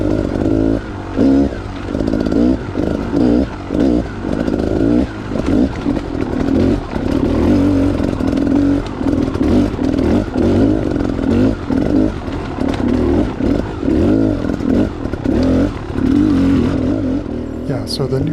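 Dirt motorcycle with a 300 engine tackling a wet trail of tall roots and rocks, engine loud and continuous with revving surges, clatter and knocks throughout.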